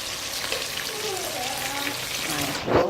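Onion, tomato, sweet pepper and Scotch bonnet pepper sizzle steadily in hot oil for a Jamaican salt mackerel fry-up, a close, continuous frying hiss with a brief stirring scrape near the end and faint voice underneath.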